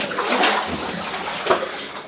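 Boots slosh and splash through shallow standing water inside a long-abandoned building in Porter, Idaho, with a steady wet churning and a sharper splash about three quarters of the way through, fairly close.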